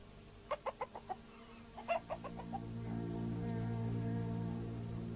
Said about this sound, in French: Allez, foutu coq, tu paies rien pour attendre.